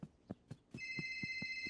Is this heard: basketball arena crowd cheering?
no